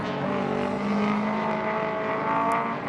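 A vintage race car in an SVRA race at Indianapolis accelerates hard down the front straight, its engine a loud, steady, close roar that climbs gradually in pitch over three seconds, with no talk.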